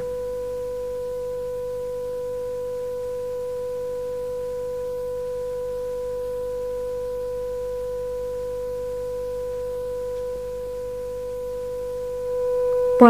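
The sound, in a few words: two pure tones of equal frequency sounding together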